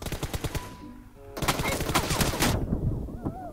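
Rapid bursts of automatic gunfire in a PUBG Mobile death match, loud and close, with overlapping shots.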